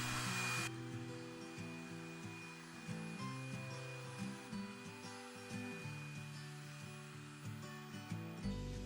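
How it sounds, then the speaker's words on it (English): A robot vacuum cleaner running indoors in a home, giving a steady whirring motor drone with shifting tones as it moves across the floor. "the first thing I did was start my robo vacuum cleaner so the whole house could get a good sweep"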